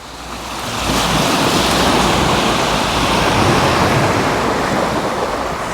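Waves on a calm Black Sea shore at Chornomorsk wash in a steady, broad rushing roar, mixed with wind buffeting the microphone, continuous and fairly loud throughout without talk.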